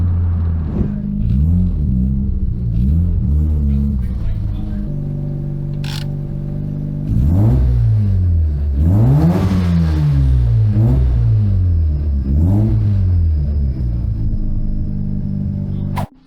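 A Mazda RX-7 rotary engine runs loudly nearby, idling with a rough burble and revving up and down several times, a low rumble throughout.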